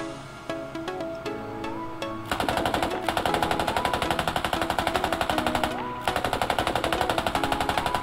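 Rapid automatic gunfire in the military shooter game Squad crackles in long continuous bursts, loud and close, after a few scattered single shots, with game music or ambient tones beneath.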